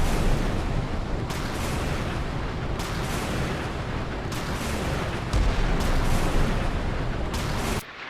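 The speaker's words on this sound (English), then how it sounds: "Okay, SM6 is going out again." SM6 missiles launching from a ship in the naval combat game Sea Power, with a Zumwalt destroyer facing Iowa battleships: a continuous heavy rumbling roar with repeated booming surges, loud and unbroken before it drops away at the very end.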